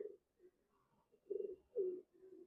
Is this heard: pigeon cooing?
yes